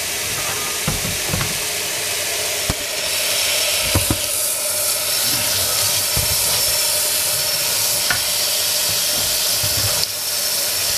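Water from a sink faucet runs in a steady, loud hiss as a cleaned part is rinsed, with occasional small clanks and knocks of the part against the sink.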